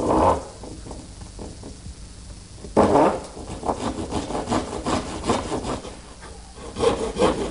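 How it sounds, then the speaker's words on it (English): A dovetail saw cuts around a leg notch in a wooden pot shelf with steady back-and-forth rasping strokes, close and fairly loud, pausing briefly before resuming a quicker, continuous sawing rhythm. "Now to make that cut, I'm going to use my dovetailing saw and go around to each leg location."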